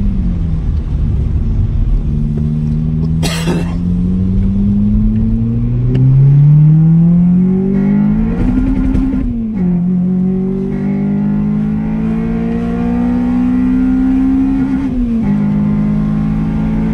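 A Honda engine revs hard in gear as VTEC kicks in, the pitch climbing steeply through each gear with brief drops at the shifts, loud and heard from inside the car.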